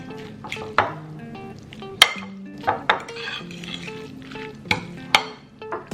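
Ram-don noodles with steak being stirred in a sizzling pan, a soft sizzle under repeated sharp clinks and scrapes of a utensil against the pan at an irregular rhythm, close by.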